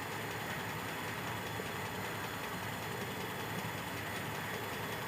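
A Toyota Kijang carbureted engine idles steadily during carburetor adjustment, a constant dense mechanical hum with even vibration and no talk.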